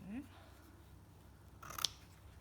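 Scissors fussy cut fabric for a slow-stitch butterfly and flower piece, with a few soft, close snips and a brighter click near the end, faint and partly under quiet talk.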